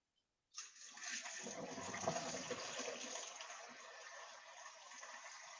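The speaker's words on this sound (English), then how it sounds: "So I'm gonna pour off the water." Water is poured off during tofu making, a sudden steady rushing gush that starts abruptly and keeps flowing close by, slowly easing toward the end, with no talking.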